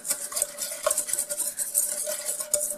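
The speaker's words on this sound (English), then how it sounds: "I got a whisk here I'm working on." A whisk stirs a garbanzo bean and oil mixture in a bowl, giving a steady, close scraping and clinking with light metallic ticks throughout, no talking.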